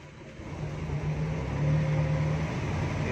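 A cold-started petrol car idles with a fluttering, uneven exhaust from a leaking silencer, a steady low engine drone with a faint hum and gradually rising loudness, no voices.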